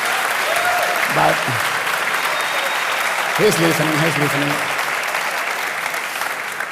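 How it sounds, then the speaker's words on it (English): At a videogames summit in Tenerife, a conference audience applauds a game developer, with steady sustained clapping throughout and someone briefly speaking over it twice. "please give an applause to him."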